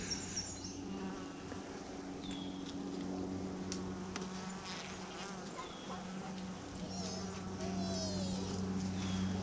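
Honeybee foragers carrying pollen buzz steadily at the hive entrance, a dense continuous drone with individual bees zipping past close by during a hive check.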